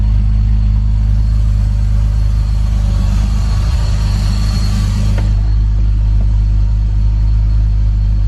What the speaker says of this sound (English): This is definitely idling a lot better.